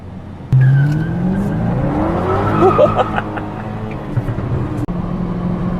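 A BMW 650i Grand Touring drives along with a steady engine drone and rising revs, loud and close from start to finish, with a brief click near the end.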